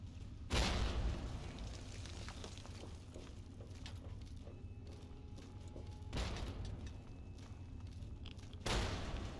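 Grenade blasts in the game Fallout 3 hit as three deep booms spaced a few seconds apart, each a sharp onset rolling into a rumbling tail over constant game background noise.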